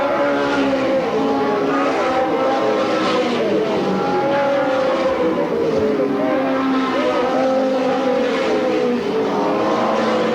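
Race cars circle Sandusky Speedway in 1985, several engines roaring loud and continuous as they rev and sweep past, pitches rising and falling in overlapping passes with no break in the noise.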